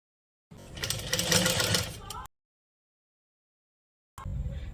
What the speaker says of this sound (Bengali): এইবার আমি এই সাইডটা সেলাই করে দেখাবো